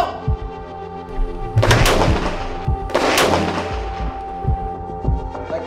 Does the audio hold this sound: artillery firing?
yes